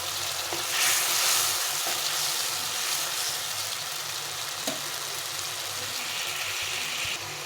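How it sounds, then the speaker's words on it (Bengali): A spice paste frying and being stirred in hot oil in a pan while cooking shahi paneer, with a steady close sizzle and a few soft scraping stirs, no talking. "একটু ভালো করে কষিয়ে নিতে হবে।"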